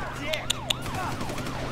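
Wailing police siren in the GTA 5 video game during a car chase, sweeping up and down in repeated cycles over engine rumble, with a few sharp gunshot-like cracks early on.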